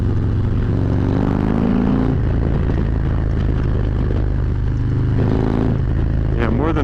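A 2023 Harley-Davidson Road King motorcycle engine accelerating on a test ride, a loud, continuous low rumbling roar with wind noise that holds steady and swells slightly through the run.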